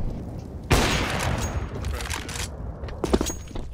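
Grenades going off in the shooter game CS:GO: a sharp, loud blast followed by sustained crackling gunfire and further bangs, with a second burst near the end.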